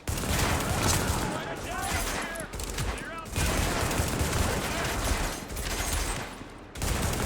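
Gunfire in The Division video game: dense, continuous bursts of shots and fusillades fill the whole stretch, loud and close, with brief dips between volleys.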